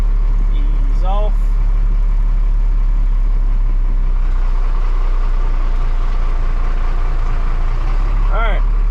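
A truck engine runs at a steady low idle while the vehicle reverses with the brake released, a deep continuous rumble with a couple of brief high squeaks near the start and end.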